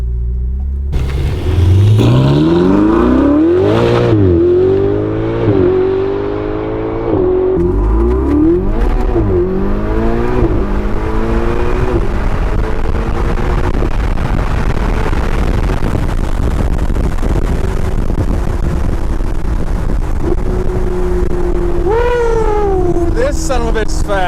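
Rented Ferrari supercar launching hard, engine revving up through rising gear sweeps with sharp shifts, loud and close from inside the cabin, settling to a steady drone before another rev burst.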